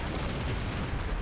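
A bridge being destroyed by an explosion in the video game Enclave: a brief, loud, dense rumbling blast filling the whole moment, with no voices.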